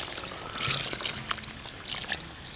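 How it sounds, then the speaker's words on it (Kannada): Cornflour mixed in water pours into a pan of lemon chicken with a short, steady liquid splash and trickle at close range. "ನೀರೊಳಕ್ಕೆ ಕಾರ್ನ್ಫ್ಲವರ್ ಹಾಕ್ಕೊಂಡು ಕಲ್ಸ್ಕೊಂಡಿದ್ದೀವಿ ಅದನ್ನ ಹಾಕೊಳ್ಳೋಣ"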